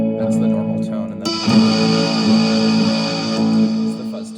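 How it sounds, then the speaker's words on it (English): An electric guitar fuzz tone from a cranked Big Muff pedal rings out, thick and distorted, with an Afterneath reverb trailing behind the sustained notes, loud and close. "it's the fuzz tone, and you can hear the reverb kind of trailing off there"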